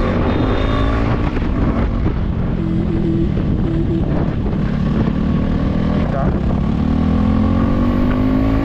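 A motorcycle ridden along, its engine giving a steady, close, continuous drone with rushing wind noise throughout, no clear pauses or revving gaps.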